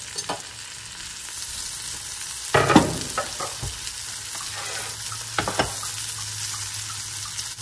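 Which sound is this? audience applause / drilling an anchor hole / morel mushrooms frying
morel mushrooms frying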